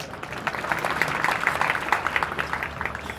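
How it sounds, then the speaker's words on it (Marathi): An audience at a job fair claps in a dense, steady burst of applause that carries on throughout, fairly loud and close. "जोरदार टाळ्या होत्या"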